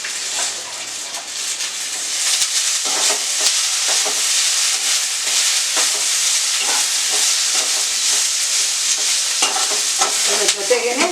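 Fresh mint leaves hitting hot oil in a frying pan while making chicken chops, a loud, dense crackling sizzle that flares up after a quieter start and keeps spitting and popping steadily close by, with no talking.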